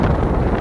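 Wind gusts roar steadily against the microphone of a rider on an e-bike heading toward the sea, a loud close buffeting rumble with no talk.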